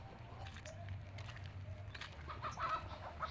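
A chicken clucking nearby outdoors in a rural yard among wild plants, a few soft intermittent clucks over a low steady background hum.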